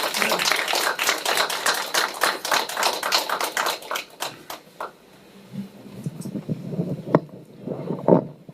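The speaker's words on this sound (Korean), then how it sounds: "박수로 맞이해 주십시오" An audience at a book launch event applauds to welcome a speaker, with dense clapping for about five seconds that thins to scattered claps and room noise.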